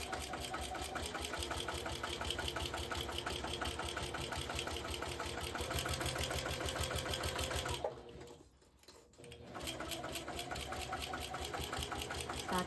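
A sewing machine runs steadily while stitching a tote bag seam, giving a loud, fast, even mechanical whir and needle chatter that stops briefly for a backstitch pause before resuming.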